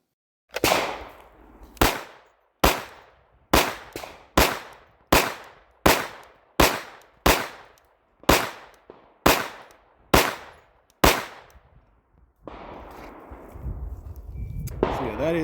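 A Glock 47 pistol fitted with a Glock Performance Trigger fired at a shooting range: about fifteen sharp, loud shots at a steady, unhurried pace, each with a short decaying echo, then a stretch of rustling noise.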